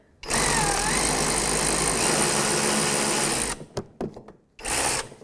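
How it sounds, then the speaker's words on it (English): A 3/8 drive electric ratchet snugs up the rear wheel hub bolts on a 2001-2007 Volvo V70: a loud, close, high-pitched motor whir for over three seconds, several short stuttering bursts, then a final sustained spin. "So I just snug this one up with my electric ratchet, 3/8 drive"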